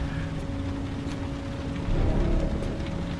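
Steady, dense rain hisses throughout a scene from the Heavy Rain video game, with a low hum beneath it and no distinct thunderclap standing out; no one speaks.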